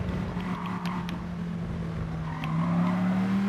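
Race car in Gran Turismo Sport braking hard for the first turn of a Nations Cup race, steady engine drone with tire squeal rising near the end, close and continuous.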